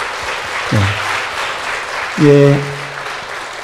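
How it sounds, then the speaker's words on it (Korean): A church congregation at a Sunday service claps loudly for its teachers, a continuous wash of applause while a voice briefly speaks over it. "우리 귀한 우리 스승님들에게 크게 박수를 한번 격려하겠습니다"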